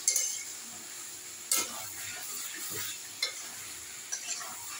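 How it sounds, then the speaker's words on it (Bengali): Frying with vinegar in a pan while being stirred, a soft steady sizzle punctuated by several distinct metallic spatula scrapes and clinks against the pan, close by, with no voices. "আবার একটু কষতে হবে।"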